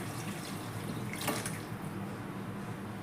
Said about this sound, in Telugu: ఇప్పుడు చింతపండు పులుసు పోసుకుందాం